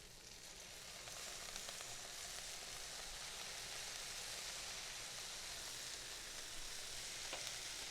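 Onions sizzling in a hot pan with a splash of brown sugar bourbon, the frying hiss swelling after the first second into a steady, close, even crackle with no voices.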